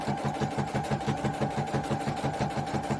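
A sewing machine tacks a cushion seam on its longest stitch length, a steady fast mechanical whirr with an even pulsing rhythm, close and continuous throughout with no talk.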